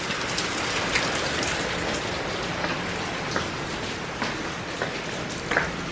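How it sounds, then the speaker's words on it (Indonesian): Steady rain falls during the Indonesian rainy season, a continuous soft hiss of drops with occasional louder individual splats and ticks scattered through it. "tapi masih hujan terus nih"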